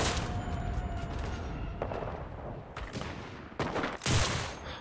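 Rapid bursts of rifle and machine-gun fire in the WW2 shooter game Enlisted, several loud volleys crackling at mid distance with brief gaps between them, no talk.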